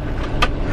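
A U-Haul truck driving through town, a steady close engine and road rumble with a brief brighter whoosh midway, no talk.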